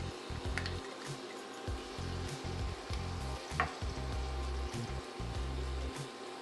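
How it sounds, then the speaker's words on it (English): Minced garlic sizzles in butter and olive oil in a hot pan, a steady close crackling frying hiss with faint stirring clinks, no voices over it. "I'm gonna add some minced garlic to this pan"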